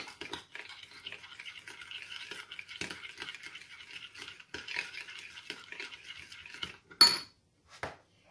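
A utensil stirs a sugar and vanilla mixture in a bowl, a steady rhythmic scraping and clinking close up for several seconds, ending with a sharp clink and a light tap.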